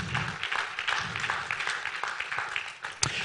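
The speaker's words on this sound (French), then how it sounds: "Oh, vous pouvez applaudir, hein, parce que je pense qu'il le mérite." An audience applauds at a colloquium on the culture and traditions of the Petite Camargue, a moderate patter of clapping hands that ebbs and swells, with a louder clap near the end.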